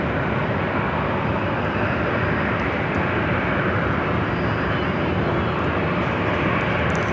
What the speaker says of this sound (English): American Airlines Flight 1995, coming up from Charlotte